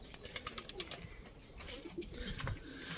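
Soft, low cooing from a 17-year-old male pigeon nearby, a few rolling coos over faint background rustling and light tapping.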